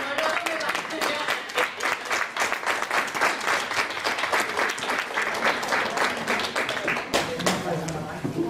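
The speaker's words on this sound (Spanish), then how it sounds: "ya le podéis aplaudir" Dense, steady applause from an audience at a poetry reading in a care home in Fraga, lasting throughout without a break, with some voices mixed into the clapping.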